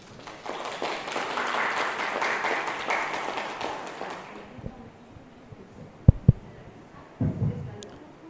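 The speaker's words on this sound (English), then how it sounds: "Please give a warm round of applause." Audience applause for a lecturer at a general lecture on performance budgeting, a dense sustained clapping wash for about four seconds that tapers into a few isolated handclaps, then low murmuring.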